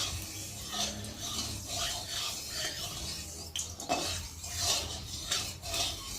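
A metal spoon stirs and scrapes oil around a hot pan in a home kitchen, steady soft rasping and clinking strokes with no voices.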